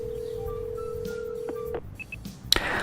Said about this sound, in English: I call him, but the phone rings for a while before it connects